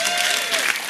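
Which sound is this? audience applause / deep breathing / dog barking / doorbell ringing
audience applause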